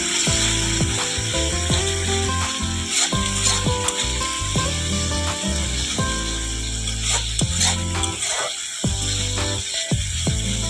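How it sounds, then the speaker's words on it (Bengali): Ground turmeric, chili and cumin sizzle steadily in hot oil for an egg curry, a continuous close frying hiss with occasional scraping clicks over a faint tonal background. "এবারে ভালো করে কষিয়ে নেব"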